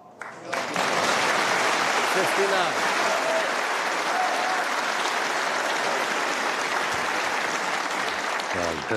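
Snooker crowd at the 2024 Tour Championship semi-final breaks into applause after a shot, rising quickly into a dense, steady sustained ovation that fills the arena, with a commentator's voice briefly audible over it.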